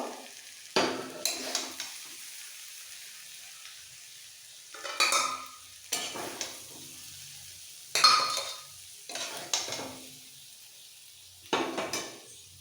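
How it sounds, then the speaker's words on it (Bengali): Soybean and potato curry being scooped from a pan into a pressure cooker, with bursts of scraping and clinking from a metal spoon against the cookware, separated by short quiet pauses. "অনেকটাই কষানো কমপ্লিট এবার আমি কুকারের মধ্যে তুলে নেব"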